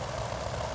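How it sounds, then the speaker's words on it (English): A steady engine drone from inside an aircraft cockpit in a video game, glitching so that it plays where it shouldn't: a continuous low hum that holds an even level for the whole short moment, close and with no talk over it. "there's a bug where it'll make that sound inside the cockpit"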